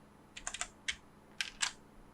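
A handful of crisp computer keyboard keystrokes, as when pressing Ctrl+V while working in AutoCAD, come in two quick clusters separated by short pauses, close and fairly quiet with no talk.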